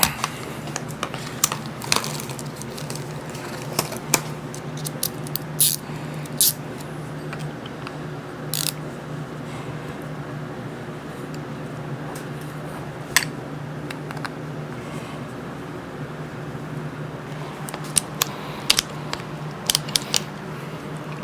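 Phillips screwdriver working at stubborn, tight screws on a Baur polisher: small scattered clicks and metallic ticks, irregular and close, over a steady low hum.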